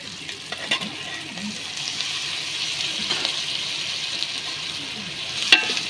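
Tomatoes tipped into a pan of partly cooked broad beans, giving a soft, steady sizzle and bubbling with a few clinks of a utensil against the pan, moderately close and without talk.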